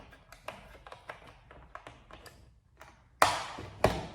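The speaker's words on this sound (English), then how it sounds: "You assemble the small clip onto here" A small clip is pressed onto a tri-proof light fixture, a series of light plastic taps and ticks followed by two louder sharp snaps close by.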